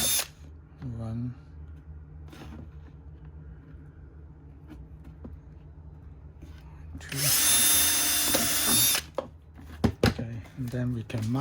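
A power drill whirs loudly for about two seconds in a steady high-pitched burst while drilling holes in a bucket, with light handling knocks and clatter before and after.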